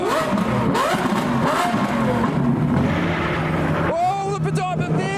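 Sports car engines rev loudly at SEMA 2023 in a crowded outdoor setting, with a Porsche 918 and a Pagani among the cars. A sustained roar with rising pitch sweeps is followed by a fresh rev burst near the end, under excited talk and crowd noise.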